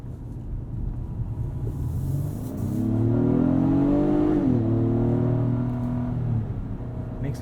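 A 2022 Acura MDX with a 3.5 liter V6 accelerates on a night drive, a close, steady engine hum that rises in pitch and swells louder mid-clip before easing back.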